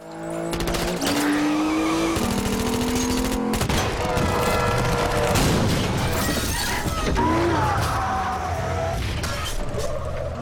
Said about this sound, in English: Instead of opening with a choppily edited car chase